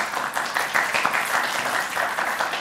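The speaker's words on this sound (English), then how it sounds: "Big round of applause for Frances." An audience at a Mozilla speaker series applauds Frances Haugen, sustained clapping with individual claps standing out in a fluttering rhythm, fairly close and steady throughout.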